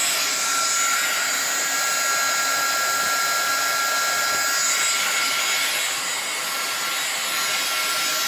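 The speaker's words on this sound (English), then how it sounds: "I'm just going to take my heat gun and just kind of go over it." Heat gun blowing over a resin film in a craft setting, making a steady, close, airy whoosh that holds for the whole stretch with no talking.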